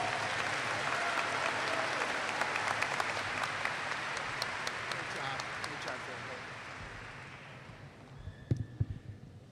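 A graduation ceremony audience applauds in a large hall, sustained clapping that gradually fades before a few scattered claps and a voice at the end.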